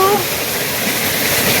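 A waterfall beside a hotel pool at the Shangri-La in Shenzhen pours with a steady, close rushing hiss of falling water, and a brief voice is heard at the very start.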